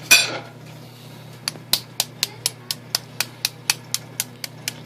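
Repeated light taps of a metal spoon cracking the shell of a hard-boiled egg, about a dozen sharp, evenly spaced clicks after a brief rustle, close and clear with no talk.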